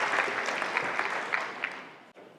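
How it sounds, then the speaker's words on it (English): Audience applause at a FinovateFall 2017 fintech conference presentation: a short burst of dense clapping from a crowd, loud at first and gradually thinning before fading out after about two seconds. "Let's give her a round of applause."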